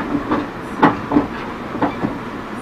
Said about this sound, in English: Yeah, because I'm on the train, remember?